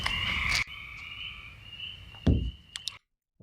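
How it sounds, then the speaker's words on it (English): Frogs croak in a dense outdoor chorus at Martin Hills, a steady high trilling that drops out briefly, returns with a dull thump near the end, then stops in sudden silence. "you're hearing frogs and such because we're outside"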